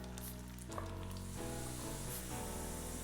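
Red pepper frying in a pan, a steady loud sizzle with crackling throughout and shifting pops as pieces move, no voices.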